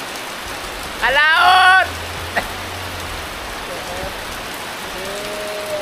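Heavy rain pours down as a steady, dense hiss throughout, with a man's loud exclamation rising above it briefly.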